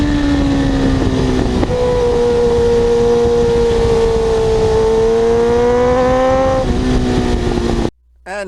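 A 1989 Kawasaki GPX750R motorcycle engine runs through a Muzzy muffler, a loud close steady drone whose pitch dips and rises slightly, then cuts off abruptly near the end.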